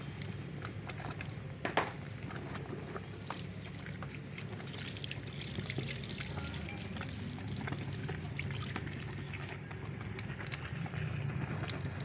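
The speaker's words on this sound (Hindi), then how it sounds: "इसमें हम पानी दोबारा डालेंगे तो ये फिर दोबारा उसी तरह झाग बनाएगा" Water poured back into a homemade washing powder mixture to make it foam again, heard as a quiet, steady trickle and splash with faint foamy fizzing and a few small knocks.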